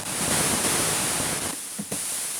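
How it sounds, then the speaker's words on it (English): The noise generator of a JEN SX1000 synthesizer is turned up, producing a steady broadband rushing hiss like a waterfall that thins and dips briefly near the end, with no talking. "We're going to turn up the noise."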